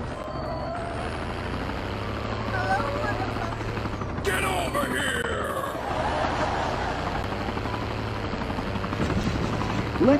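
Helicopter rotor drone in a Call of Duty battle royale match, a steady low throbbing chop that persists across the whole stretch, with occasional game effects and brief talk over it.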